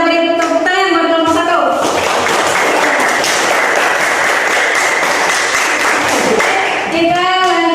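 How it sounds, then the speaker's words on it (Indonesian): Classroom applause for a student group, loud dense clapping breaking in after a spoken voice and lasting several seconds before talk resumes. "kita beri tepuk tangan buat kelompok"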